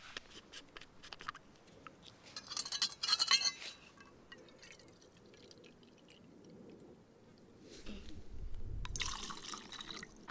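Water is measured out into a glass container for boiling, heard as faint clinks and a brief pouring splash, quiet handling, then a longer low gurgling fill near the end.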